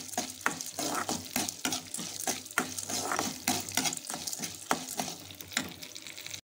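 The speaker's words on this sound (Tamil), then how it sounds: "இப்போ இதோட இஞ்சி பூண்டையும் போட்டு இதையும் சேர்த்து நம்ம நல்லா வதக்கிக்கலாங்க." Ginger and garlic sautéing in a pan for a coconut ginger chutney, a continuous close sizzle broken by rhythmic scrapes and clicks of a spoon stirring against the metal pan.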